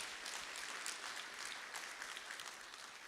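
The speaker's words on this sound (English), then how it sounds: "Give them a round of applause." An audience at an interfaith Ramadan dinner in Memphis claps together. The applause is faint and distant, with an even wash of clapping that lasts a few seconds.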